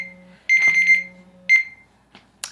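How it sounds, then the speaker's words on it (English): An alarm clock going off with loud electronic beeps: two sustained bursts of bright ringing tone, with a faint lower hum before the first, then a softer tick and a short high chirp. "It's my alarm"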